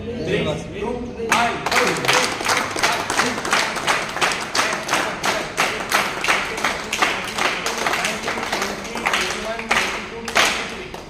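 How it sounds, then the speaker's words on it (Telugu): Rhythmic group clapping, steady and fairly close, runs for about ten seconds as an audience congratulates a couple on their wedding anniversary at a meal offered to Ayyappa devotees. "వారికి 23 చప్పట్లతో వారికి అభినందనలు తెలియజేయాల్సిందిగా మనస్ఫూర్తిగా కోరుకుంటున్నాం"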